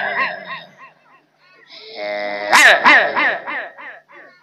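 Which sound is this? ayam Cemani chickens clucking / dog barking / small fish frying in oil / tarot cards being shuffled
dog barking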